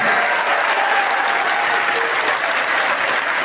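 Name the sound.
audience applause at religious discourse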